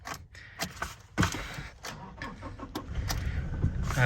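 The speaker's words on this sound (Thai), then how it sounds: "การสตาร์ทการสตาร์ทก็ปกติในเรื่องของระบบไฟฟ้า" A 2017 Toyota Revo Prerunner 2.4 E Plus 4x4 pickup is started close by, with clicks and knocks before the engine catches and settles into a low, steady idle.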